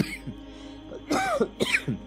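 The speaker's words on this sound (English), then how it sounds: "I'll be coughing unfortunately throughout today's lecture" A few coughs and throat-clearing bursts from a speaker with a throat infection, close and fairly loud, separated by short pauses with no talking.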